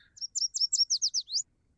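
A yellow warbler's song plays from a bird identification app, a crisp series of roughly nine high, slurred whistled notes in a fast, even rhythm, loud and isolated against silence.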